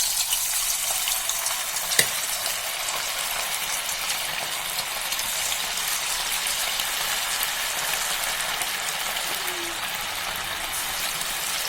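Cauliflower deep-frying in hot oil in a thick kadai for Gobi 65 makes a dense, continuous crackling sizzle, loud and close, with one sharp clink near the start and no voices.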